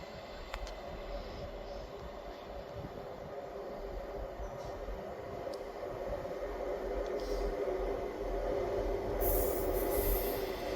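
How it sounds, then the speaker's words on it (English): A delayed ScotRail passenger service from Cowdenbeath to Edinburgh Waverley arriving at a station, heard as a steady rolling rumble of wheels that slowly grows louder, with faint wheel squeal near the end. "Arriving in now is the delayed 1716 ScotRail service from Cowdenbeath to Edinburgh Waverley."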